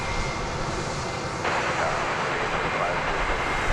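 A Boeing 747 taking off at DFW Airport, a loud, continuous broadband jet roar that holds steady and swells slightly partway through, with no break.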